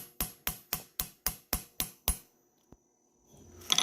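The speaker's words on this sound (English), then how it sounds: "we can see that I have done some hammering" Eight sharp metallic hammer strikes on the outer edge of a Potter USA pancake die in an even, quick rhythm, each ringing briefly, followed by one lighter tap and then quiet rustling.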